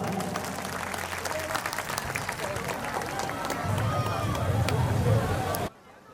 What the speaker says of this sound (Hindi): तो एक बार 100 ग्राम तालियां बजा दीजिए